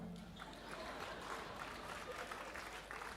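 Audience applause at a live stand-up comedy show, a dense wash of clapping from a crowd filling the whole moment at moderate distance, with no distinct voices over it.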